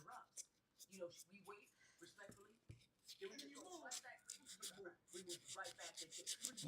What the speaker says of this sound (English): right now I'm sanding so that I'm prepping it for paint